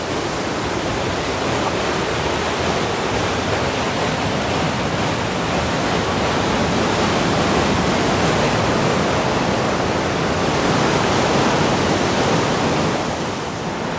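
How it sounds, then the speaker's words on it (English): A waterfall swollen by heavy rain near Ouray, Colorado roars in a dense, loud, unbroken wash of white noise that holds steady for the whole stretch, with no voices. "We got a lot of rain lately, and that waterfall is angry."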